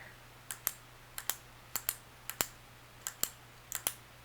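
Crisp, sharp clicks from the metal plunger of a U Brands metal-body soft-touch pen, about a dozen close together, mostly in quick pairs, against a quiet room with a faint hum.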